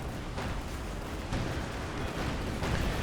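Mortar and artillery fire in Company of Heroes 2, a dense continuous rumble of distant booms and blasts with a few louder impacts standing out, no talking.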